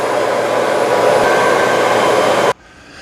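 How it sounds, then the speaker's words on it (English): The Shark PowerDetect Clean & Empty IP3251 cordless vacuum's dock runs its auto-empty suction, a loud steady whooshing roar that cuts off abruptly near the end, leaving a quiet hum. "it turns on a vacuum inside here, and that's going to suck all the dirt and debris out of this chamber"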